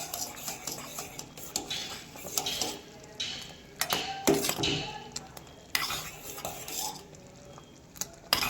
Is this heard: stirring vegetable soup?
yes